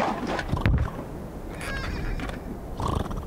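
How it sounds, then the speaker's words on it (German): A donkey in the video game 3 Skulls of the Toltecs gives loud whinnying brays in a couple of bursts, with some clopping sounds mixed in. "aber wir müssen ja mit dem Esel reiten."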